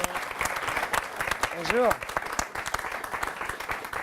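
A television studio audience applauds, close and steady clapping under a host's voice as a guest is welcomed, with a brief greeting spoken over it.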